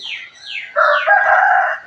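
A rooster crows loudly nearby at a Buddhist temple in Lampang, Thailand, one long drawn-out call after a couple of shorter rising notes.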